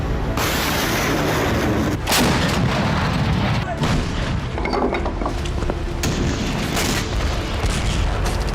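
Heavy Russian artillery bombardment of Ukrainian cities: loud, continuous rumbling barrage with repeated booms and sharp blasts throughout, no voices.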